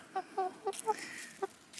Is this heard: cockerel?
yes